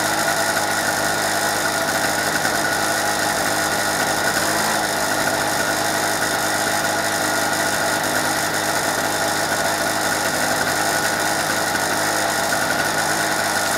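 A two-stroke petrol generator engine, test-run after two years unused, runs with no load attached. It gives a loud, constant buzzing drone with a high-pitched whine, unbroken from start to finish.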